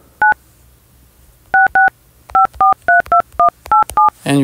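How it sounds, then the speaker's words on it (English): Tone dialing on an iPhone keypad: a string of about eleven clear, separate beeps, one short tone, then a pair, then a quicker run of eight at an uneven tapping pace, ending in a brief click. "dial the number"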